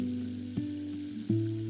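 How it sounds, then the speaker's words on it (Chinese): Sugar and water simmer over medium heat in a pan as the syrup cooks toward caramel, giving a soft, steady sizzling bubble with a couple of brief clinks, quiet and close. "在锅中倒入砂糖还有水，中火我们来熬煮焦糖"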